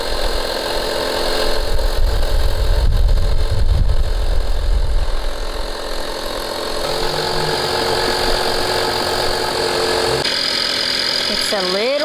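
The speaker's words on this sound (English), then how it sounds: "This is actually a pump for our tires in the car." Small electric car tire air pump inflating a grapefruit-shaped pool float, a steady buzzing motor drone throughout, rougher and louder early on, then evening out into a constant mid-pitched hum.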